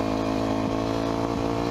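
Warmed-up motorcycle engine idling steadily nearby, a loud continuous rumbling hum with a faint rhythmic pulse and no noticeable revving, alone without talk.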